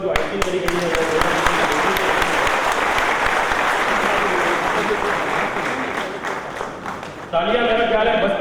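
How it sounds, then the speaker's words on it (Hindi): Dense, sustained audience applause at a BHEL golden jubilee celebration, loud and continuous, with voices mixed into the crowd. The clapping lifts briefly near the end. "तालियां मेरा ख्याल है बजती रहे"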